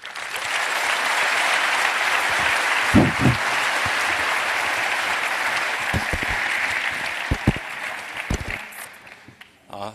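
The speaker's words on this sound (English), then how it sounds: "if you'll please join me in giving them a warm round of applause" A conference audience breaks into warm, steady applause that fills the room for about ten seconds, with a few louder handling thumps and a voice briefly heard as it fades out.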